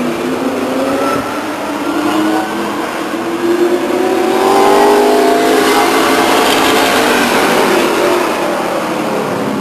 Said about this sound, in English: Got some crippled race cars out there.